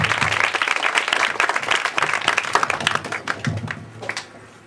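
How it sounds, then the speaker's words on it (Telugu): Warm applause from an audience at a Christian mission outreach meeting in India, many hands clapping together in a dense, steady burst that thins out and fades toward the end. "అందరూ చప్పట్లు కొడదాం."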